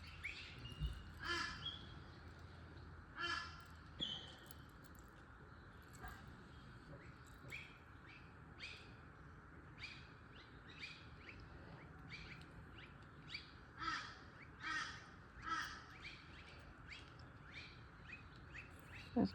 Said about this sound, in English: Those birds are so sweet.